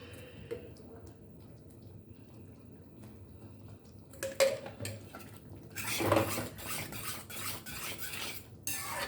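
Mango coconut milk rava kesari being stirred in a pan over low heat, with soft scraping and intermittent clinks of a ladle against the pan that grow busier and louder toward the end.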